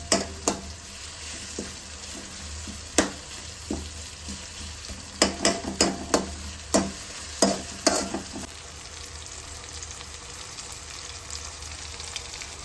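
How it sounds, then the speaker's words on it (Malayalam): Onions and tomatoes frying in a pan for a crab and prawn masala curry, a steady sizzle under a dozen or so sharp spatula scrapes and clacks at irregular intervals, fading to plain sizzling near the end; nobody speaks. "സവാളയും തക്കാളിയും ഒക്കെ നല്ലപോലെ മുരിഞ്ഞിട്ടുണ്ട്"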